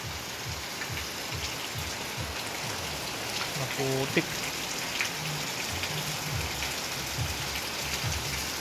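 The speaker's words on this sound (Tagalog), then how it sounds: "Pumapatak na naman ang ulan." Steady rain patters on a house roof, a dense, even wash of drops lasting throughout, with a brief spoken word partway through.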